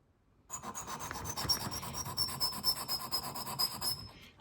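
Metal scraping of a dental hygiene instrument, a Montana Jack, Nevi or Black Jack scaler, being sharpened on a stone, heard close and alone as a steady, continuous rasping rub.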